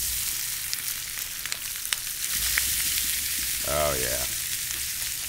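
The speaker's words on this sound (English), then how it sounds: "Burnt ends go right into the pan." Burnt ends frying in avocado oil over high heat hiss loudly in a pan, with scattered crackles and a brief spoken exclamation partway through.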